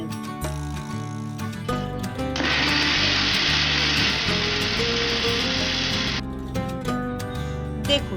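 An electric grinder blends chopped tomato, ginger and chilli with a spoonful of water into a masala paste, a loud whirring burst lasting about four seconds, set amid clattering kitchen sounds and background music.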